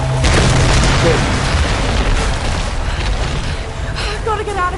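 Explosions in the video game Tomb Raider (2013), a loud booming blast that rolls into rumbling debris and crackling aftershocks over several seconds.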